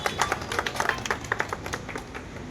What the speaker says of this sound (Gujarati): કુતુબભાઈ માટે પણ આપણે તાળીઓ કરીશું